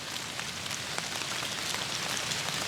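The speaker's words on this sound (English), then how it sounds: "It's raining pretty hard all day" Rain falls steadily on an Indiana deer hunt, a dense, even patter of drops that stays constant throughout with no voices.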